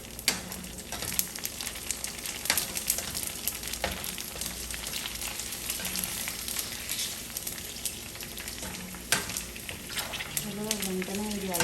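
Pani puri frying in hot oil, giving a steady bright sizzle and crackle throughout, with a few sharper pops and light stirring, while a voice talks over it.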